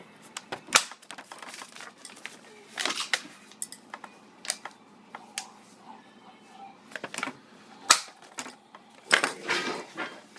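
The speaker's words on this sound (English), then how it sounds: "If you can't get far enough down with your hole punch, then you just fold it a little bit" A hole punch snaps through a folded paper bag in scattered crisp clicks and crinkles, quiet and close, with paper rustling between punches.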